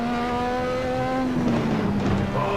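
Simulated car engine in the racing game Assetto Corsa, before the turbo builds, drones with a steady harmonic tone that dips slightly, then gives way to rougher engine noise.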